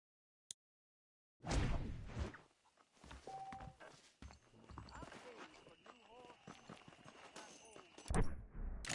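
Horse hooves clip-clopping at a walk in Red Dead Redemption, a steady close rhythm of hoof falls with a person speaking over them.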